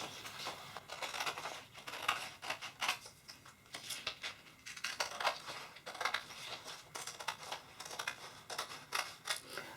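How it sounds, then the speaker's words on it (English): Old-fashioned scissors snip through paper strips for rolled paper flowers, making a quick run of crisp, irregular cuts and rustles heard close and alone. "I'm just going to use old-fashioned scissors."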